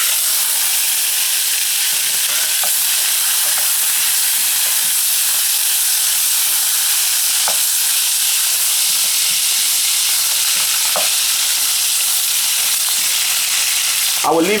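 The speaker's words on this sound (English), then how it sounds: "I want to pre-fry my Koobi or salted tilapia." Salted tilapia (koobi) frying in hot oil, a steady loud sizzle and hiss running throughout with faint pops and clinks, no voices.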